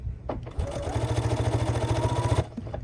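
A sewing machine stitching a fabric key fob, running in a steady, rapid mechanical chatter for about one and a half seconds before stopping, close and fairly quiet, with faint handling sounds before and after.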